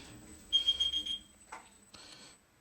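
A Segway-Ninebot electric scooter's warning beeping pulses rapidly, pauses, then a couple of brief higher beeps follow, close and moderately loud.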